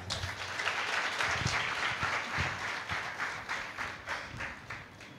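A church congregation applauds loudly, dense sustained clapping that carries on through the whole stretch, fading slightly toward the end into more rhythmic claps.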